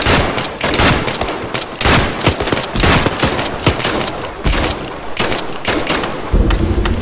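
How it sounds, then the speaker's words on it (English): Gunfire in the military shooter Arma 3 during a defensive battle against attackers: rapid automatic bursts and overlapping shots rattle almost without pause, loud and close, with heavier thuds mixed in. "Just keep shooting"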